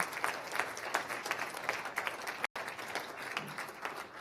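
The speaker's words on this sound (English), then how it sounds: "You're still alive, so big applause for all of you." Conference audience at a global trade cooperation event giving sustained applause, many hands clapping steadily with a brief dropout midway, heard from a distance in a large hall.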